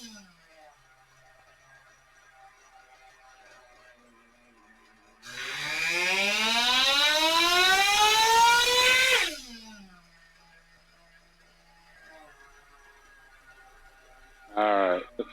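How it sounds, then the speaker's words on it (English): An Ielasi Terra .21 RC nitro engine on a dyno screams to a loud, high-pitched rev for about four seconds, its pitch climbing steadily, then drops back to a faint idle before a short second blip. "clean out run, dyno pull."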